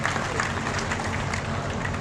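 A brief burst of steady audience applause at a public gathering, dense and even throughout.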